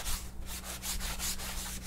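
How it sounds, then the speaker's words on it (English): A magic eraser sponge soaked in sanitizer is wiped across a leatherwork table in quick, repeated scrubbing strokes, rough and close, with no voices. "I spray directly into something like a magic eraser sponge or something, and then I'm just gonna give it a quick wipe down"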